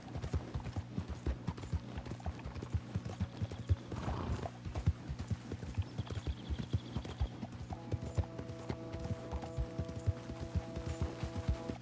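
Horse hooves clip-clopping at a steady walking rhythm in Red Dead Redemption 2, close and even, with a brief snort or whinny partway through and faint game music tones later on.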